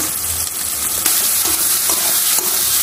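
Chopped onion and tomato fry in browned, spiced oil, a steady loud sizzle with intermittent stirring scrapes throughout, no voices.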